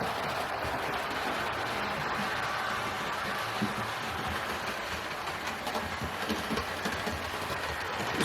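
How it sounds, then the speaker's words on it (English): Hornby Railroad model locomotives, Flying Scotsman and Tornado, running on a layout with a continuous soft whirring motor hum and faint wheel rattle, steady and quiet with no talk. "These are both Hornby Railroad range locomotives."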